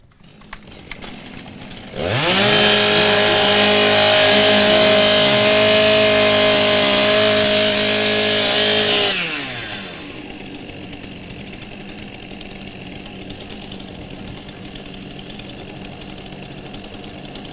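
STIHL chainsaws warming up at a timbersports championship event in New Zealand: a loud, close engine roar revs up after a couple of seconds, holds at high speed, then drops back to a lower idle with ambient noise.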